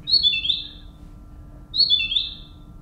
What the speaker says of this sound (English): So my bird chirps twice.